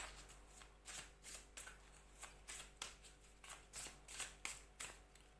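Oracle cards being shuffled by hand, a steady run of soft riffling swishes repeating roughly every half second, close and quiet with no talk.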